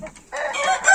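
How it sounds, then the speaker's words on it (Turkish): A rooster crows loudly and close, one drawn-out call rising after a brief quieter cluck. "Yine horozumuz var."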